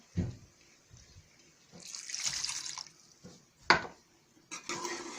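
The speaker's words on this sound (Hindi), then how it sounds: "अब हमारा पानी छोलों का थोड़ा सा बचा हुआ था वो हम डाल रहे हैं" Leftover chickpea cooking water is poured into a pan of fried potatoes and chickpeas for Lahori chanay, giving short splashing pours and a brief sizzle amid light clinks of cookware.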